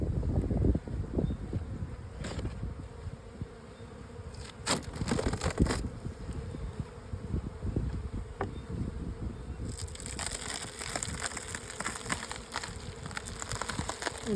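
Honey bees buzz steadily at an open beehive, a dense close hum with occasional louder passes of individual bees near the ear and light handling noises, no talking.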